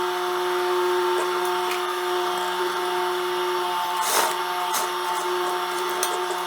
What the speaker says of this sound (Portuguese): agora vou costurar exatamente em cima desse risco que eu acabei de fazer